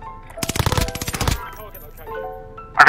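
Call of Duty gunfire, a rapid automatic burst of close shots lasting under a second, followed by quieter game sounds and another sharp report at the end.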